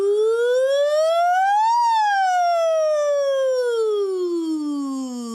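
A single voice sings a smooth siren-like glide, sweeping upward then slowly sliding back down, sustained and clear, imitating a siren.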